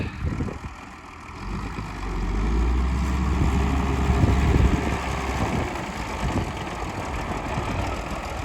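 An MTZ 1221 tractor pulling a PLN 6-35 plough rumbles with a heavy, low engine drone that swells and holds; irregular crunching from a worn front axle may be buried in the din.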